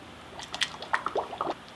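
Warm, thickening tallow lotion poured from a pitcher through a funnel into a pump bottle, giving soft wet trickles, drips and squishy glugs, close and fairly quiet.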